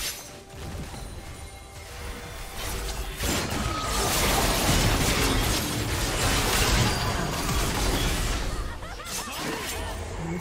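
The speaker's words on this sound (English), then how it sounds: "Blue team's turret has been destroyed." Loud crashing, shattering and mechanical impacts swell in a League of Legends match as a turret is destroyed, a dense roar building in the middle of the stretch and easing afterward.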